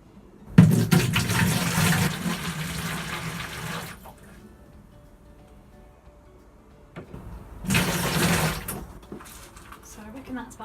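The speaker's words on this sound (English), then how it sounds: "I'm just going to top this up now to 5 litres with water" Tap water gushes into a 5-litre plastic watering can in two loud bursts, the first about three seconds long and the second shorter, with a quiet pause between.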